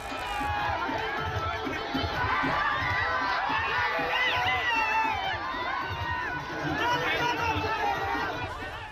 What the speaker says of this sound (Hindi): मैदान में खचाखच भीड़